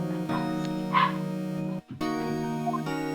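A dog barks in the Phoenix Wright Ace Attorney video game, a short synthesized yip over steady game music that drops out briefly midway, with no talk.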